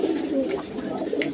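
Pigeons cooing close by in a loft, soft repeated coos under a faint human voice.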